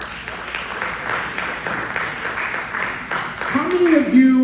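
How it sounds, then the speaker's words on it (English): An audience at a popcorn sale training session claps in a steady, moderate round of applause, and a voice comes in near the end. "Let's give a man a round of applause."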